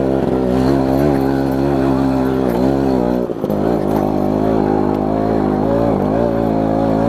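A vehicle engine revving hard in first gear, held at high rpm with a strong harmonic whine that wavers, dips sharply once about halfway through, then climbs again, loud and close throughout.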